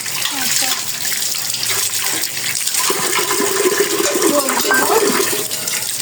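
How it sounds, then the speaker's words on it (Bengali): Water runs from a tap while items are washed at home, a steady broadband rush throughout with a voice talking over it. "এই যে এখন এগুলো ধুয়ে নেই"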